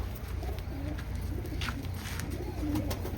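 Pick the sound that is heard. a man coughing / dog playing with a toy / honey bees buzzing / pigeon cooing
pigeon cooing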